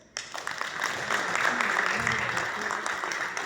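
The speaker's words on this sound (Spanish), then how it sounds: "Un fuerte aplauso, señor Gonzalo." An audience at a Moquegua bicentennial independence ceremony in Peru bursts into applause, a sudden onset of dense clapping that carries steadily to the end.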